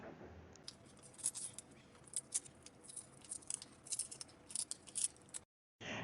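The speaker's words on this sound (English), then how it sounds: "Now you're going to take your scissor and cut all the excess resin off, which will be very easy since it's very thin." Scissors snipping away thin cured excess resin around a tumbler base, a series of close, crisp cuts in irregular rhythm before a short silence.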